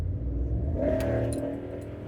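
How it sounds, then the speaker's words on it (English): A car engine revs up and accelerates to overtake a big truck on a two-lane road, a low steady rumble rising into a brief whining climb before easing off again. "Well, it's a big truck, and I'm about to pass it once these double lines go."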